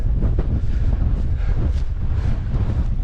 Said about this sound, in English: Still is windy right enough.